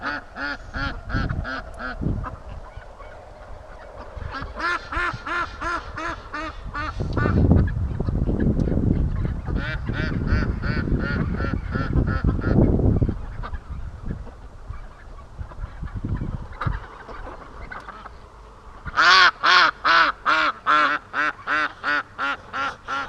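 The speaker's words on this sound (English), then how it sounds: "I love how they never stop quacking." Free-range ducks on a lake in October give long bursts of loud, rapid quacking and honking, close by, with brief quieter gaps and a sharp run of repeated quacks near the end; no talking.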